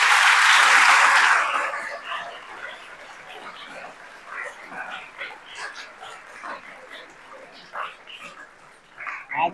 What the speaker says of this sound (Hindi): ऐसे संदीप आर्य जी के लिए एक बार जोरदार तालियां बजाएं